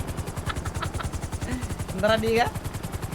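A helicopter in a video game roleplay keeps up a steady rapid rotor chop through the whole stretch, with a brief voice speaking over it.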